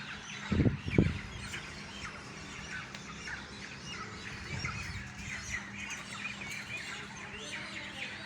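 Chickens squawking in the early morning in Islamabad, two loud close squawks at the start, then fainter clucks and chirps over a steady hiss of ambient outdoor noise.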